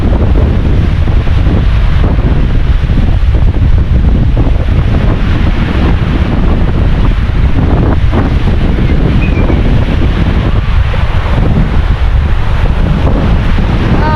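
Rough sea surf churns under heavy, steady wind buffeting the microphone, a constant loud roar that fills the whole stretch with no clear breaks.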